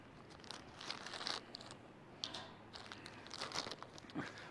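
Plastic mailer packaging holding a t-shirt being cut and torn open, with quiet crinkling, scraping and rustling in irregular bursts, close by and soft.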